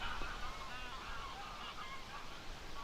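Goose-like birds honk and call repeatedly outdoors, a scattered, overlapping chorus at middle distance over a steady background hiss.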